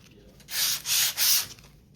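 Three quick rasping strokes of sandpaper rubbing across linen fabric, close and crisp, with short pauses between them.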